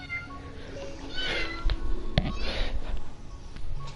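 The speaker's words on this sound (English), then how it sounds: "Yeah, that's my cat." A pet cat meows a few times at close range, short rising cries against a quiet room with faint background hum and no talk.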